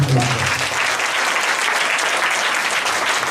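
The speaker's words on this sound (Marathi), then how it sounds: "टाळ्या वाजून जोरदार प्रभू" A church congregation at a Christmas service claps together in loud, sustained applause that fills the room, with a voice briefly audible at the start.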